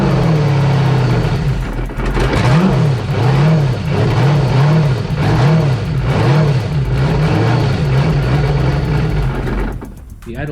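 V8 jet ski engine running on a hose with a new idle air control valve installed, loud and close, its idle rising and falling in a steady rhythmic surge about twice a second before cutting off near the end.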